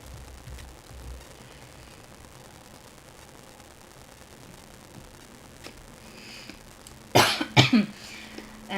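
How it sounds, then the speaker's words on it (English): Near-quiet background, then a burst of several harsh coughs close to the microphone near the end, followed by a throat-clearing rasp. "And sorry for my cough"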